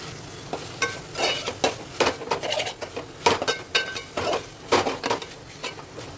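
Ginger, garlic and turmeric sautéing in a pan for prawn curry, with a steady sizzle and repeated close scrapes and taps of a spoon stirring against the metal.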